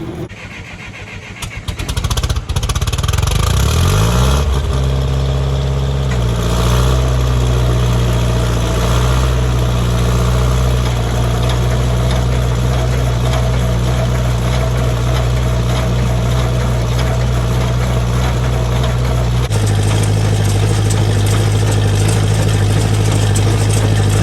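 A Massey 12 square baler with a stiff, stuck plunger runs loud and close, its engine catching after a few seconds and settling into a steady heavy drone, with a shift in pitch near the end.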